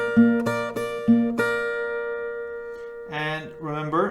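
Acoustic guitar playing the melody of a song: strummed chords ring out and decay for about three seconds, then a few picked notes follow, close and clear with no voice.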